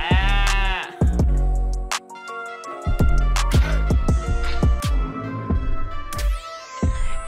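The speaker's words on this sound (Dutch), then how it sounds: "Daar zijn de schapen enorm blij." Sheep bleats are sampled into a rap beat, repeated in quick rhythmic bursts over thumping drums and synth tones, loud and close, with no voices.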